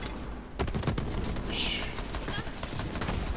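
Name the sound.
gun firing in the video game Borderlands 3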